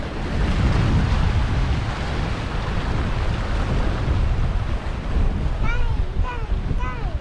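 Strong wind buffets the microphone on a windy Croatian beach, with a constant roar of gusts and surf rushing along the shore, and short chirping sounds toward the end.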